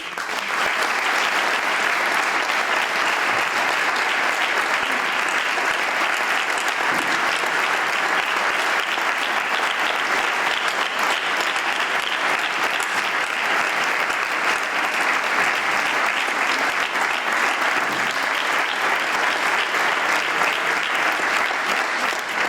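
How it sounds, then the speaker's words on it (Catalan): Concert audience applauding at the 25th anniversary concert of the Vila de Bocairent music society as a saxophonist joins the band: loud, dense, unbroken clapping from a large crowd that holds steady throughout. "Fort aplaudiment també per a rebre a Estela Jornet"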